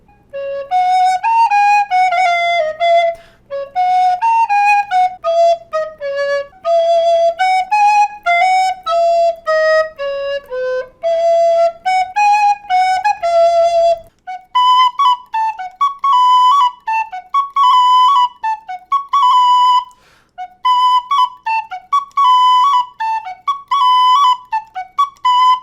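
A recorder plays a string of bright, pure, breathy notes, alone, in short melodic runs with brief gaps between phrases.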